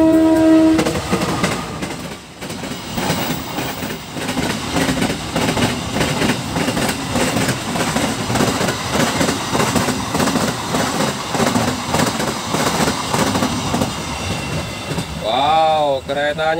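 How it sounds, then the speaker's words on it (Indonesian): A long container freight train rumbles steadily past up close, wheels clattering throughout, with a brief horn-like tone near the end. "itu ada kereta datang"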